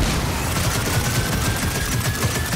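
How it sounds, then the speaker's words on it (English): A dense, unbroken barrage of gunfire from a Gears of War 4 firefight, several weapons firing at once, loud and close throughout with no pause and no talking. "Could you stop shooting me, please?"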